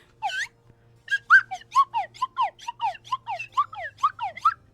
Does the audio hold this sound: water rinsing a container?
no